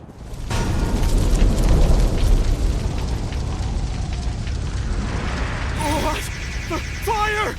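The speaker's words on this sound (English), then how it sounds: "The fire! It's spreading!" Battlefield fires spread in the video game Dynasty Warriors Origins with a dense, roaring rumble that fills the scene, and crackling bursts and a few sharp effect chimes rise near the end.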